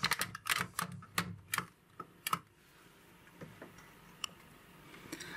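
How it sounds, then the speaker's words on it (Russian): A Brother KG-93 robot carriage moves slowly across a knitting machine, giving off a quick run of sharp mechanical clicks that thin out into sparse, quieter ticks. "робот-каретка движется достаточно медленно"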